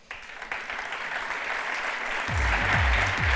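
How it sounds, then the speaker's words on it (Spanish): Conference audience at an EmTech innovation event in Mexico applauding steadily, dense clapping building and holding throughout, with a few low thumps near the end. "Un aplauso para él."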